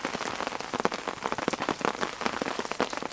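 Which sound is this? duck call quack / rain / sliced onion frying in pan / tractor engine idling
rain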